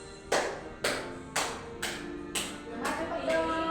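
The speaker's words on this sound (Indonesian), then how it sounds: "Ambil tepuk tangan." A class in a microteaching lesson claps hands together in a steady beat, about seven sharp, evenly spaced claps roughly half a second apart, fairly close and alone.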